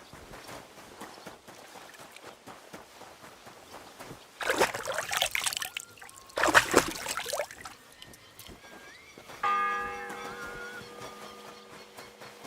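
A church bell tolls once in the video game Kingdom Come Deliverance 2, its ringing tone holding steady near the end after a few loud splashing bursts of in-game noise.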